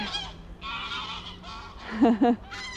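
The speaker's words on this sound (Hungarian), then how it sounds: "Nagyon csípem ezeket a madarakat. Nagyon jó hangosak." Loud geese honk close by, two sharp honks standing out near the end over a backdrop of other bird calls.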